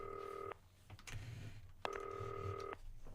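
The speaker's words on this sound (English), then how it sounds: "Oh, the phone." A telephone in the broadcast-studio video game Not For Broadcast rings twice, each steady electronic trill lasting about a second, clear and alone against a low background hum.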